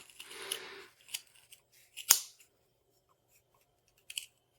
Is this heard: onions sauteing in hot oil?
no